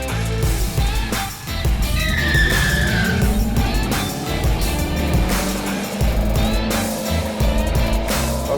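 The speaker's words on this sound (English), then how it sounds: "here we are in the Scat Pack version of the new Charger EV, and we are hitting the track" A 2025 Dodge Charger Daytona Scat Pack EV is driven hard on a track, with loud continuous motor and road noise and a rising tire squeal partway through. No speech.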